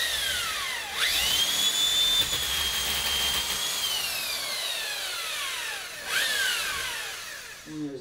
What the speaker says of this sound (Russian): Я, во-первых, сверлю с помощью совка для того, чтобы весь мусор попадал в совок.